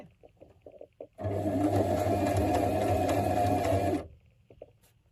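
A sewing machine stitches a buttonhole, a steady close whirring run of about three seconds with quiet handling sounds before and after.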